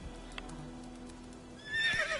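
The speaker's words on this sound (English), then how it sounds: "Luckily, Geralt can always count on his horse, Roach, to help him in his travels" Roach, Geralt's horse in The Witcher 3: The Wild Hunt, gives a loud, close whinny near the end, after soft hoof clip-clops and quiet game ambience.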